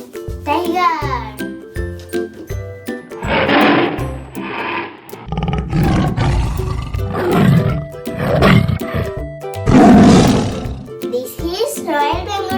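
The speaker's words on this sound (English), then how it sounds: "This is Royal Bengal tiger." Royal Bengal tiger roar played by an animal toy: a series of loud, growling electronic roars with jingling chimes, alternating with someone talking between them.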